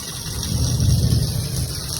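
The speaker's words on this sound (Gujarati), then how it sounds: "ભગવાનની દયાથી પાણી તો જવા માંડ્યું" Floodwater drains away from a flooded house in Junagadh after heavy rain, a steady, continuous rushing gush with a low rumble that holds at close range.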